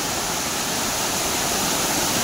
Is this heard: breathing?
no